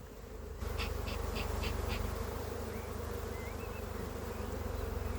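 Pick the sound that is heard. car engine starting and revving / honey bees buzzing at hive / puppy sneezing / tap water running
honey bees buzzing at hive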